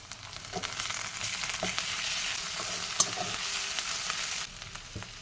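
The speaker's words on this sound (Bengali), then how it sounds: "এখন দেব পেঁয়াজ কুচি আদা পেস্ট রসুন পেস্ট" Chopped onion with ginger and garlic paste sizzling in hot oil for an egg and potato curry, a steady close hiss with occasional light taps of a spoon against the pan.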